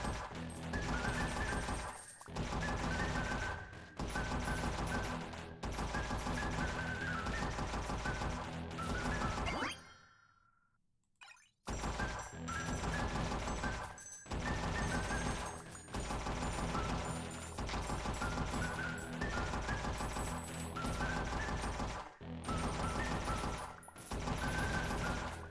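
Rapid shotgun blasts in the video game Desktop Survivors fire almost nonstop, loud percussive bursts stacked densely over game music, broken by a brief near-silent gap midway.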